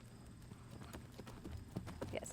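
Finn the horse picking up a right lead canter in a riding lesson, hooves clip-clopping in an uneven rhythm at moderate distance, faint against background noise.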